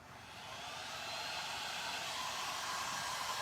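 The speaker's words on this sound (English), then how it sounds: "I'm going to use my new heat gun. It's really quiet." A steady, even blowing whoosh of a heat gun drying paint, rising in the first half-second then holding constant, fairly quiet.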